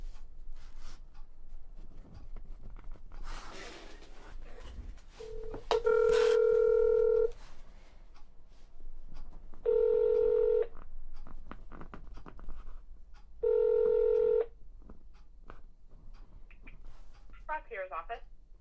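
A phone call to the Drake County, Ohio prosecutor's office: three long, steady ringback tones sound at even intervals, with a quick burst of keypad tones near the end, over low background noise.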